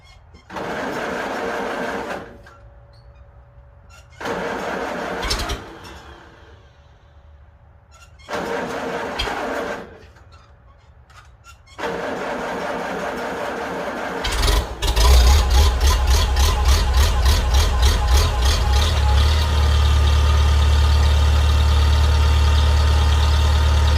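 Farmall Super C tractor engine cranked in several separate bursts with pauses between, then catching and running steadily, loud and close with a rough rhythmic idle.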